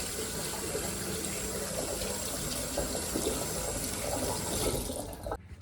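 Tap water runs steadily into a kitchen sink as fruit is washed, a continuous close hiss and splash that cuts off abruptly at the end.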